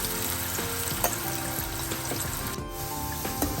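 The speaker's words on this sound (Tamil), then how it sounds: "எண்ணெய் நல்லா கொதிச்சிட்டுது. இப்போ இதை முதல் பொரிச்சு எடுப்போம்." Pieces of elephant foot yam deep-frying in hot oil for a Sri Lankan karunaikilangu curry give a steady, dense sizzle with a few soft clicks and knocks, heard alone with no talking.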